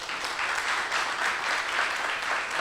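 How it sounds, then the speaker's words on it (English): A round of applause from the crowd at a university research week Three Minute Thesis competition, a continuous even mass of clapping hands at moderate loudness. "So give yourselves a round of applause"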